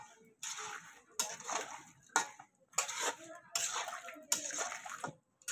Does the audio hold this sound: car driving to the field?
no